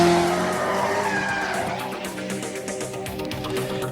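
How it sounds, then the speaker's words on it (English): A 480-horsepower mid-engine, rear-wheel-drive Ferrari F40 road car on a race track, its engine roaring steadily and loudly with tire noise, no talking. "The fastest road car in the world, 480 horsepower Ferrari F40"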